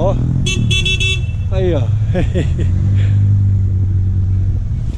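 A Honda CR-V rolls past at a Honda car meet, its engine a low steady drone under loud crowd noise, a short horn toot and close talking from a man nearby.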